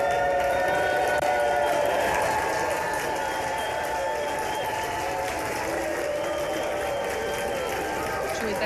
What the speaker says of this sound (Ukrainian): овації.